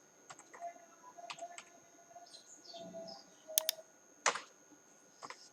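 Typing on a computer keyboard while filling in a school form: sparse, faint clicks and short bursts of key taps in a quiet room, with no talk.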